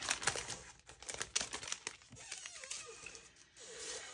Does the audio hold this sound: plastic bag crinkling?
yes